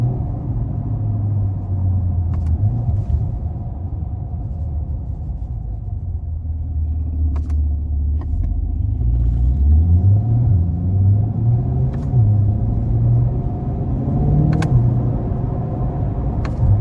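A 2022 Chevrolet Corvette C8 convertible, 3LT Z51, cruises with its engine in four-cylinder deactivation mode, giving a steady low droning rumble whose pitch drifts and rises gently, close and continuous with faint ticks above and no talking.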